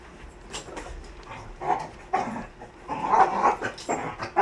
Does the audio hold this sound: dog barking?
yes